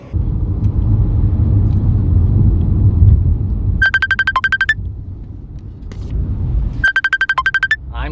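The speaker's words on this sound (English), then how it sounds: "I'm getting a call." A cell phone ringtone for an incoming call chirps in two quick bursts of rapid electronic beeps, heard outdoors beside a 2015 Mitsubishi Outlander Sport SE while a passing car rumbles loudly in the background.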